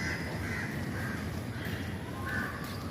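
Bird calls repeat faintly against a steady, dense background hiss, with crow-like caws rising now and then in the distance.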